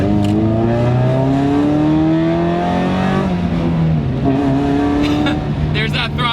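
A Mazda Miata roadster with a swapped-in Chevy Equinox engine revs under throttle, a steady rising engine drone climbing and dipping through gear-like steps, heard from inside the car at close range, loud and continuous.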